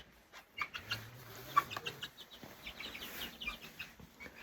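Chickens cluck softly and intermittently in a barn, with faint scattered calls against a quiet background hum and no talking.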